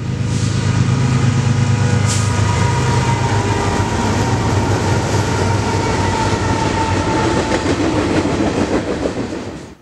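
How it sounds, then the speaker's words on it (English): A southbound mixed freight train rolls steadily past close by, a loud continuous roar of wagons with rhythmic wheel clatter and a brief metallic squeal, before fading at the end. "Up next was the southbound mixed freight."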